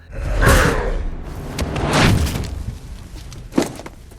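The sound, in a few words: Hulk kicking Blonsky into a tree, film sound effect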